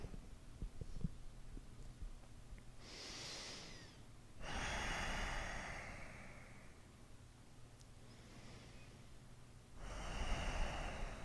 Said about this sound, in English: We'll take 3 long inhales and exhales here.